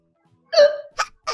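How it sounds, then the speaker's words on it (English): A single loud hiccup, followed by two short voiced bursts, comes from a reader voicing a hiccupping hippopotamus in a children's read-aloud story, close and clear against silence. "a hiccup, a big one"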